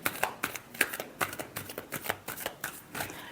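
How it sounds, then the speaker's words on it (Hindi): Tarot cards are riffled and shuffled by hand in quick, rhythmic bursts, close and soft with no talking. "last shuffle"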